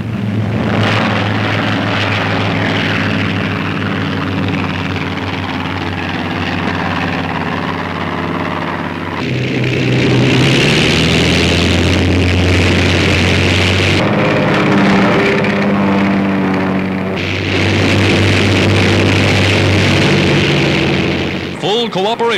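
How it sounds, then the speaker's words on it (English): P-40 Tomahawk fighter planes rev their propeller engines and take off from an aircraft carrier flight deck, a loud, steady roar that surges and shifts pitch in waves, with a narrator talking over it. "Wheeled to the flight deck, the speedy fighters are ready for the takeoff."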